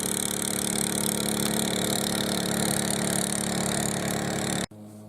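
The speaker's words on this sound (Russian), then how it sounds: "Где-то там лодка идет." A motor boat engine drones steadily on a river, a continuous mid-pitched hum heard from some distance, holding level for several seconds before cutting off abruptly near the end.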